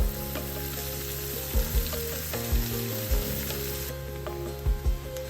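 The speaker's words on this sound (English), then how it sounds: "Saute 1 medium onion that's chopped to very tiny pieces." Finely chopped onion sautés in a pan with a steady broadband sizzle, punctuated by several low thumps and scrapes of stirring; no one speaks.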